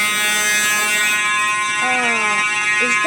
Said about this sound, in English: Is that the fire alarm on?